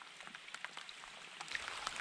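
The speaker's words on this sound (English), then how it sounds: "Can hear the rain." Rain falls on Wabuscon Lake in the burnt, regrowing wilderness, a faint soft patter with scattered distinct drops that grows denser and a little louder toward the end.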